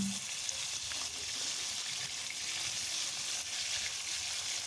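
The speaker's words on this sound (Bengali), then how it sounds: "ওদিকে মাছ কিন্তু কড়াই ভাজা হচ্ছে" Pieces of rohu fish frying in a wok, a steady, fairly soft hiss of sizzling oil that continues evenly with no voices.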